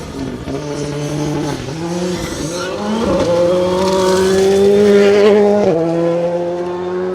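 Ford Fiesta R5 rally cars on a gravel stage at a rally championship event, one loud engine close by holding a high, rising rev as the car passes, with tyre noise and no clear voices.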